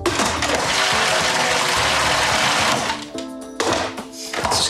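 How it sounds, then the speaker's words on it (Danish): A blender whirs loudly and steadily as it mixes panna cotta cream with gelatin, then sputters and pauses before running again in short bursts near the end. "og så skal den lige blendes med det samme igen."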